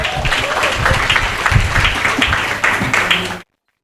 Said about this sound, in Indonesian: Sekali lagi beri aplaus untuk Bung Rocky Gerung.